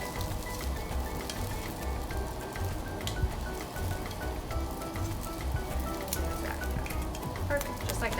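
Large shrimp grilling on a barbecue grill give off a steady, moderate sizzle with fine crackling pops throughout, heard fairly close and without talk.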